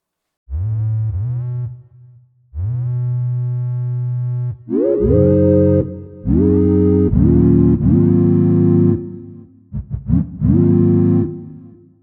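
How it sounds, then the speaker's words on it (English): A series of sustained glide synth pad chords with a reverb effect, each held a second or two, with a washy reverberant tail; loud, alone, and shifting pitch between chords. "Let's add a little bit of reverb."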